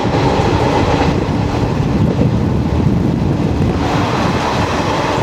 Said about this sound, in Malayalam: 22634 Hazrat Nizamuddin Thiruvananthapuram weekly super fast express.